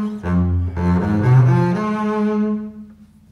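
Bowed double bass plays a short phrase from Britten's Peter Grimes. A few connected low notes change pitch, then the last note is held and fades out. The playing is close and clear, with no talking.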